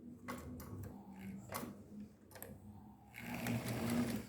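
A domestic sewing machine stitches fabric bias binding around a curve, a steady mechanical whir broken by short pauses and restarts, close and fairly quiet, with no talking.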